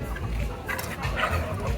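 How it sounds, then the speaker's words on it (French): Large roosters on a farm giving close clucking and throaty fowl calls over a steady low background rumble, with no clear full crow. "Ils sont jolis les coqs. Ils sont gros hein."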